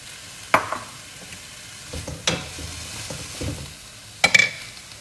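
Green curry ingredients sizzle quietly in a wok, a soft steady frying hiss broken by a few sharp scrapes and clinks of stirring.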